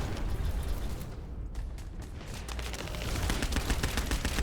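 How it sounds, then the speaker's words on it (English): Artillery fire raining down in the video game Outriders, a dense continuous barrage of booming impacts and crackling gunfire, loud and unbroken throughout. "As you can see, artillery is also dropping on you."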